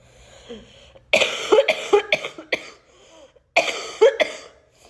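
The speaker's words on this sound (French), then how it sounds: "pourquoi je tousse encore?" Two harsh bursts of coughing, each a rapid series of rough hacking coughs, close and loud, separated by a short pause.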